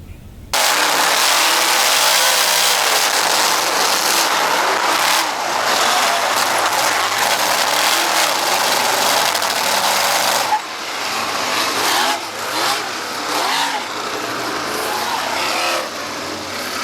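Race cars roar around a track during a 2016 race, their engines droning loudly and continuously, with rising and falling revs as cars pass and one shift in the mix partway through.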